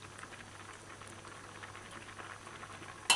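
Bulgur simmers at a gentle boil in a partly covered pot on a stovetop set to medium low, a soft, continuous bubbling patter, ending in a sudden louder burst of noise.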